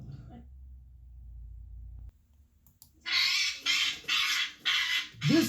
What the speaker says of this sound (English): This talkative parrot helped finger a killer.